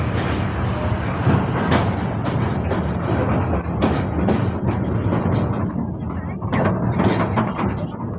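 Inside a moving train, a loud continuous rumble with rattling clatter and occasional sharp knocks over the steady roar of the carriage, even in level throughout.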